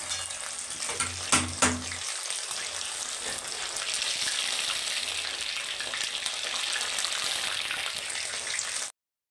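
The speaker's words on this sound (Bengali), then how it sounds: "এবার বাকি মাছগুলো ভেজে নেব।" Pieces of bhetki fish fry in hot oil, making a steady close sizzle with a few clattering knocks near the start before the crackle settles and then cuts off.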